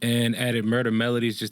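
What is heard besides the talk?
No everyday noises stand out.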